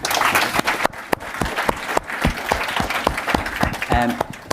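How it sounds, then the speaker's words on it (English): Loud, sustained audience applause fills a startup showcase event at Google, with dense clapping and sharp individual claps throughout, and faint crowd voices underneath. "So if we just give a round of applause to"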